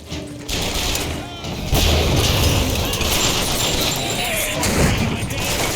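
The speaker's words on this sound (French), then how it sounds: "Grenade." Grenade blast in the shooter game Bioshock Infinite, a loud burst of explosive gunfire-like crashes and booms over continuous battle noise, with a voice speaking amid the chaos.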